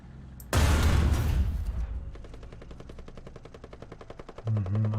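Machine gun fire in the War Thunder video game: a loud, dense burst of gunfire up front that trails off into a rapid, steady rattle of fainter automatic shots, with a low rumble swelling near the end.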